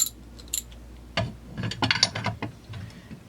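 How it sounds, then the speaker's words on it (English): A ratchet wrench being reversed to loosen a nut on a Stihl MS360 chainsaw during case teardown: a few scattered metallic clicks and clacks of the tool and parts, close by, with brief pauses between bursts. "Now we can reverse the ratchet."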